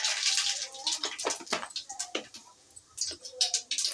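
Mustard seeds and cumin sizzle and crackle in hot oil for a Telugu-style okra fry, a bright, continuous hiss broken by scattered sharp pops, close and fairly loud with no talking.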